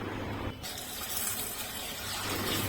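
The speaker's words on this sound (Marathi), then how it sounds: "आता आपण ही डाळ दोन तीन वेळा पाणी बदलून स्वच्छ धुवून घेऊया" Half a kilo of chana dal is rinsed in a pot of water, a steady gushing splash of running water continuing close by after a brief quieter moment at the start.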